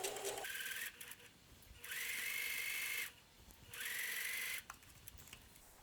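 Sewing machine stitching trim fabric onto a quilt row, running in two steady whirring bursts of about a second each with short quiet pauses between them, close by and without talking.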